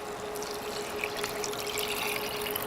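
Warm water pours into rice in a pot, a steady, faint trickling hiss that runs unbroken for a few seconds, with no talking.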